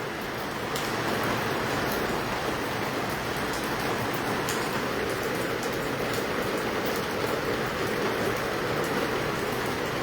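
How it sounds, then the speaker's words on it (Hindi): Light drizzle falls steadily over Hisar and its surroundings, a continuous soft patter of raindrops holding an even level throughout with no voices. "हिसार और आसपास के क्षेत्रों में बूंदाबांदी शुरू हो गई है।"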